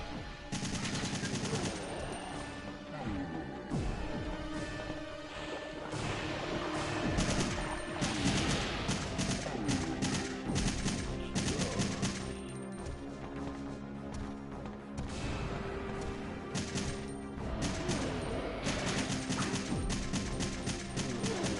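Gunfire in Resident Evil 3, dense bursts of rapid automatic shots and single blasts rattling on continuously and loudly over the whole stretch.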